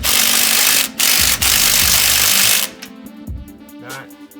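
A loud, sustained impact wrench hammers at the control arm nuts on a Chevrolet S10, running in long bursts with two brief gaps, then cutting off and leaving quieter shop clatter behind.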